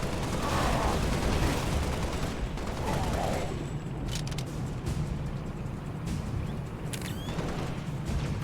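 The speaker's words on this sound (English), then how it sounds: "Taking fire!" Video game battle gunfire: a dense, continuous wash of distant shooting and rumble with a few sharper cracks later on, steady and moderately loud throughout.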